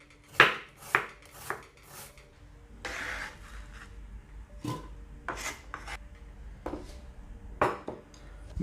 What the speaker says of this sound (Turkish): ince ince onu da kesiyoruz